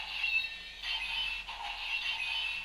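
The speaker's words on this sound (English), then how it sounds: "when you pull the trigger for sword mode, you get these sound effects anyway." DX AxCalibur toy sword from Kamen Rider Wizard in sword mode playing its electronic sound effects: a faint, tinny, high-pitched chiming and whirring loop that runs continuously, with no talking.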